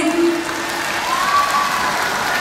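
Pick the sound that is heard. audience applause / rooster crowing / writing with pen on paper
audience applause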